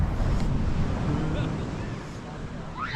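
Ocean surf washes onto the shore in a constant low rushing roar mixed with wind buffeting the microphone, fairly loud, with faint voice sounds near the end.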